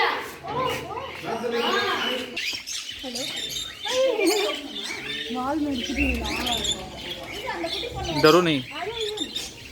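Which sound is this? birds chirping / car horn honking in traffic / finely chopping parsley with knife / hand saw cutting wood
birds chirping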